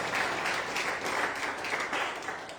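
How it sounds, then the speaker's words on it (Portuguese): A church congregation applauds, a dense, steady wash of many hands clapping together for a couple of seconds with no break. "Aplauda Jesus."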